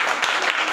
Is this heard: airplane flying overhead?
no